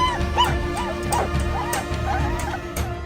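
A puppy at an animal market whimpers and cries in repeated short, rising-and-falling whines over a steady low background hum, with no voices present.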